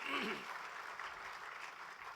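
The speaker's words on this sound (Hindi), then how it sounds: "क्योंकि तालियां इतनी देर तक बजती रहती" An audience applauds, a soft, steady wash of clapping heard at some distance and sustained without a break.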